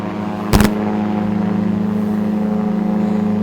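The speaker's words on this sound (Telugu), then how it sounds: "ఈ మోటార్ స్టార్ట్ అవుతుంది. ఇది మోటార్ సౌండ్ కూడా వస్తోంది." A paragliding paramotor engine runs with a steady, droning hum and a pulsing low tone after a short burst at the start, close and continuous with no speech.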